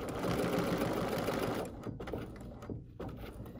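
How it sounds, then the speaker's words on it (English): A Bernina L 850 overlocker sewing a straight stitch gives a steady, close mechanical whir that then breaks into short, uneven bursts as the machine slows and stops. "I'm gonna make my first straight stitch. And I'm gonna stitch"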